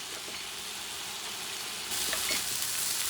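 A London broil steak about three-quarters of an inch thick sizzles steadily over high heat in an 85-year-old Wagner cast iron pan, a close, continuous frying hiss that swells louder near the end.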